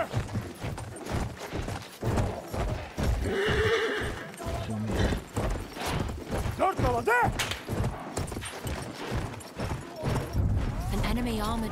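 Rapid hoofbeats thud in a galloping rhythm while a horse whinnies loudly partway through, with someone talking over the Battlefield 1 game sounds.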